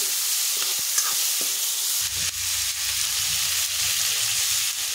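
A spice mixture drops into hot oil in a wok and is stirred, a steady close sizzle with scraping stir strokes, growing denser after the first couple of seconds.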